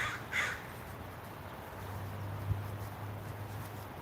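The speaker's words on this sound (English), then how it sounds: "We're getting all the crows." Crows cawing in a windy park, a single caw rising early over steady wind noise, with a low hum running underneath and a brief thump midway.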